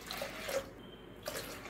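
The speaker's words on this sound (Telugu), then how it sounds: "3 గ్లాసుల వాటర్ వేయాలి." Water pours into a pressure cooker holding a mix of toor dal and moong dal, a steady close splashing stream with brief pauses between glassfuls, no talking.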